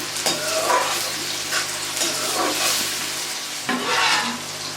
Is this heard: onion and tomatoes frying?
yes